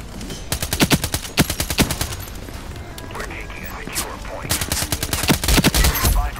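Automatic rifle fire in the IronSight online shooter, a golden MSBS rifle, sounding as rapid bursts of sharp close shots in several volleys with short gaps, loud and punchy, with game sounds between bursts.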